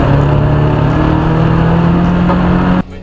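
A Fields Auto Works Cardinal race car engine runs loud and close, holding a steady, droning rev with strong low harmonics before cutting off abruptly near the end.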